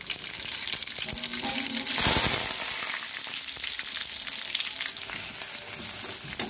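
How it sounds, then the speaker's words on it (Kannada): Mustard seeds and cumin crackle and sizzle in hot oil, a steady close frying hiss with scattered pops and a louder burst near the start, with no talking. "ಸಾಸಿವೆ ಜೀರಿಗೆ ಹಾಕ್ತೀನಿ, ಸಾಸಿವೆ ಜೀರಿಗೆ ಚರ್ಪಟ ಅನ್ಬೇಕು ನೋಡ್ರಿ"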